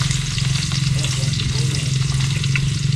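Garlic frying in a pan gives a steady, loud, continuous sizzle and crackle throughout, with no talking.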